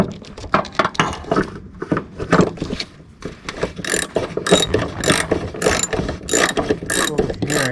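A ratchet wrench tightens a Bilstein shock absorber nut on a 1963 Mercedes-Benz 220SE sedan, giving rapid, close clicking bursts in repeated strokes with brief pauses between them and no talk.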